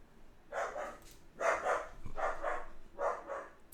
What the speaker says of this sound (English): Yes, so you might hear a bark or two.